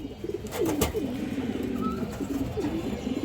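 Pigeons, among them a white army hen, give low rolling coos in a steady sequence close by, with a few short knocks early on and a faint higher whistle midway.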